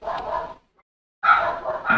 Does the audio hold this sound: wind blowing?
no